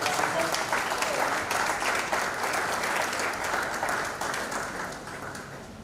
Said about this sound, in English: Please let us give him a round of applause.